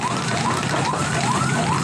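A loud fire engine siren wails, rising and falling in repeated cycles, continuous and fairly close, with no voices, as fire engines respond to a fire in a residential area.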